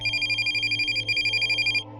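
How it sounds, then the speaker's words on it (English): A telephone rings with a rapid trilling electronic bell, two bursts back to back, loud and close, then cuts off abruptly. "My wife answered the phone."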